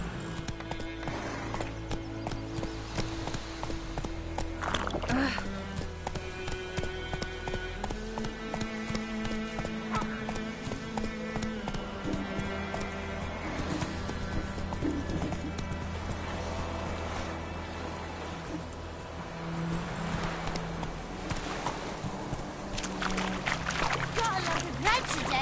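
Hooves of Roach, the horse in The Witcher video game, clip-clop in a steady trotting rhythm with an occasional whinny, mixed under game music and other ambience, while a voice speaks.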